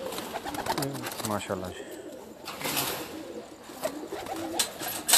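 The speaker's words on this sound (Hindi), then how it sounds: "इनका वाइट माशाल्लाह कबूतर है" A white pigeon on a rooftop gives a run of deep, rolling coos close by, repeated in quick pulses, while someone talks over and between them.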